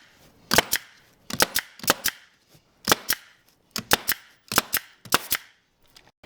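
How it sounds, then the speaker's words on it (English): Staple gun fires sharp, snappy shots into upholstery fabric stretched over a couch frame, mostly in quick pairs spaced about a second apart, around fourteen close bangs in a row with short pauses between. "I'm going to go ahead and staple this all the way across"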